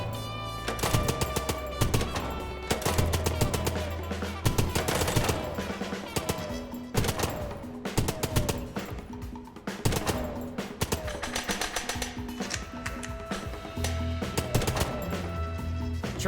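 Rapid gunfire bursts from the video game Chicken Police, repeated shots layered over a steady game music bed, with no clear reload clicks standing apart.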